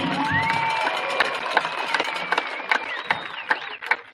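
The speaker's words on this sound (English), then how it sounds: "One more big round of applause for the Amador County Unified School District Band." Crowd at a high school graduation cheering and clapping for a school district band, with whistles and shouts over steady applause and sharp individual claps toward the end.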